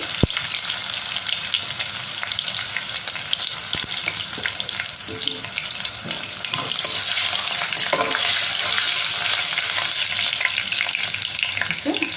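Three dried red chillies and garlic fry in a pan, crackling and sizzling loudly and steadily up close, with occasional stirring and no speech.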